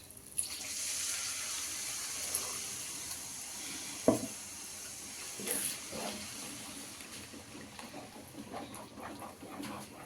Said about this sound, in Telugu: మిక్సీలో ఉన్న మసాలాది వాటర్ ఉంటుంది కదండి, ఇలా మంచిగా నీట్గా కడిగేసుకొని దీంట్లో వేసేసుకుందాం